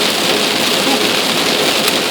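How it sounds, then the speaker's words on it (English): Heavy rain drums steadily on a vehicle while it drives along a highway, a dense unbroken hiss that stays loud and even throughout, with no voices. "It's raining pretty hard."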